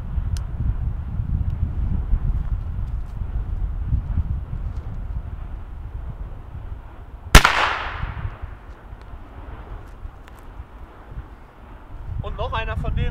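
Single Weco Pyrocracker firecracker, an old-trademark banger, going off outdoors: one sharp loud bang with a short decaying tail amid steady wind noise.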